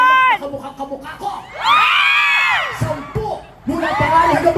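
A crowd at an Independence Day gathering shouts and cheers together in a loud, sustained roar, dropping briefly before a second burst of yelling, with an announcer's voice heard before it starts.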